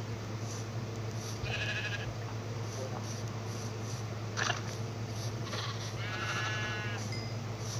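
Sheep bleat in a Minecraft game, several short wavering bleats spaced apart over a steady low hum and ambient game noise, moderately loud with no voices.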